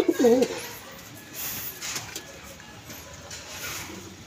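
A pigeon from a breeding pair coos in a short, low, bubbling burst right at the start, then falls quiet, leaving only soft background noise.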